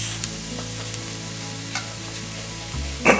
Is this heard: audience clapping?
no